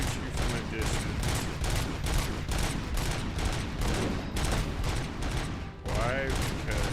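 Gunfire from the RoboCop: Rogue City video game rattles in rapid, sustained bursts at close range with a brief lull near the end, loud and dense throughout.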